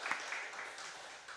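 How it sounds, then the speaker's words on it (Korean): A church congregation gives a soft welcoming round of applause at a Friday night prayer service, faint and scattered clapping that fades over a second or so. "우리 환영의 박수 하도록 하겠습니다"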